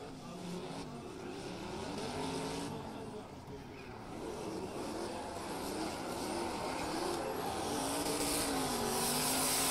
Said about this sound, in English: He drops wheels as Čirba hunts for the side of Saraf's 350Z.